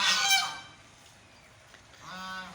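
Loud honking calls from ducks on a farm at the start, a quiet gap, then another burst of nasal quacking and honking near the end.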